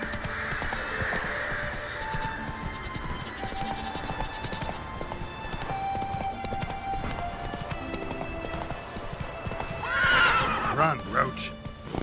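Roach, the horse in The Witcher 3, gallops in a fast hoofbeat rhythm and lets out a loud, close neigh near the end, while voices speak over the running.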